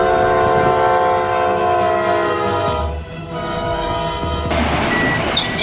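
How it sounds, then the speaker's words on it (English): A train pushing through heavy snow blares its horn in one long, loud, sustained chord over rumbling wheels, the tone holding steady before giving way to a rougher rushing noise near the end. "the engineer just laid on the horn the whole trip."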